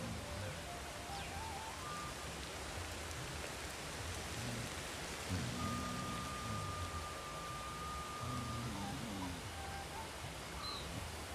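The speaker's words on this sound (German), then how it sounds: "Sag bloß, hier regnet's durch." Steady rain drips and hisses through a leaky shelter in the video game Ancestors: The Humankind Odyssey, a constant soft wash with faint game tones drifting over it.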